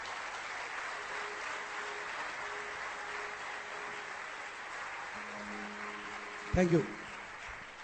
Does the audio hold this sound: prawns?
no